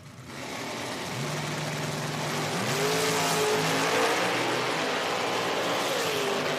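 Oldsmobile drag race car at an IHRA outlaw nitro Pro Am event, engine rising from a low rumble into climbing tonal revs that swell louder and hold steady, heard from a distance over crowd ambience.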